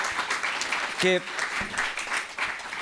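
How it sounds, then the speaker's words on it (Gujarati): An audience at a memorial tribute gathering for Shivji Ashar, hosted by Navajivan Trust, gives loud, sustained applause, a dense steady clatter of many hands, with a voice briefly speaking over it. "એક જોરદાર તાળીઓ તમારા માટે થઈ જાય"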